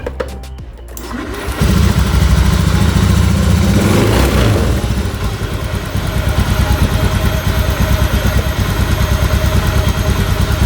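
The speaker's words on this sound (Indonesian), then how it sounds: "sekarang kita tes hidupkan ya" A Honda motorcycle engine, just serviced with cleaned fuel injectors, cranks and catches, then settles into a loud, steady, close-up idle with an even pulsing putter.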